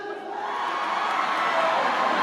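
Concert crowd at an outdoor festival stage roaring in a sustained wall of shouting and cheering, many voices blended into a loud, continuous swell.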